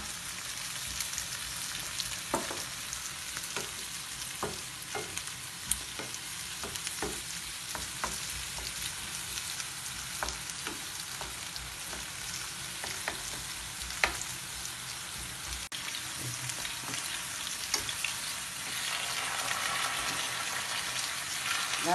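Garlic and bell pepper frying in a pan alongside potatoes, a steady close sizzle with scattered crackles and a few stirring scrapes, and the hiss swelling louder toward the end; no one talks.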